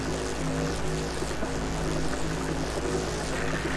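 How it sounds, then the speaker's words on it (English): A large engine in the video game TerraTech purrs in a steady, continuous low drone with a constant rumbling hum and no break, fairly loud and alone. "It's a large engine just purring away."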